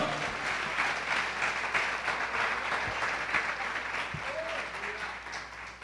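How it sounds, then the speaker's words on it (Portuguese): A church congregation breaks into sustained applause during a sermon, many hands clapping in a steady, moderately loud wash that stays even throughout. "Dê uma salva de palmas ao Senhor."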